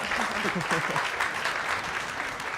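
Applause from a town hall audience at a creative placemaking summit, a steady dense wash of clapping that holds loud for a couple of seconds, with some voices mixed in.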